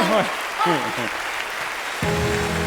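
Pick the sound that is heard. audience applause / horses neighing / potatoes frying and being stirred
audience applause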